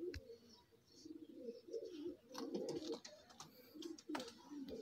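Soft, repeated cooing of golden dab teddy cross pigeons nearby, with low throaty warbles and faint flutters and clicks in the background.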